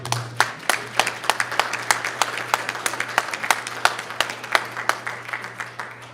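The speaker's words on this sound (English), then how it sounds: "Give yourself a round of applause." A classroom group claps for a presentation, the sparse claps coming as distinct sharp slaps that start a little ragged and settle into a steady rhythm, with a low steady hum underneath.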